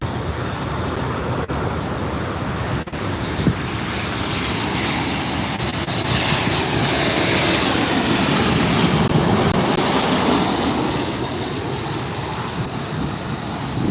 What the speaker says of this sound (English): Here comes the WestJet 737.